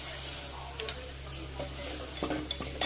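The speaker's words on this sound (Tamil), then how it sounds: "கொஞ்சம் கரம் மசாலா பொடி போட்டு வதக்கிக்கோங்க" Pasta masala sautéing in a pan with garam masala and coriander leaves, a steady soft sizzle and frying hiss with occasional stirring scrapes and clicks, close and continuous, no voices.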